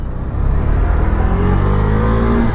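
A KTM Duke 390 motorcycle on its stock exhaust revs loudly at close range, a dense engine roar whose pitch climbs steadily through the short burst.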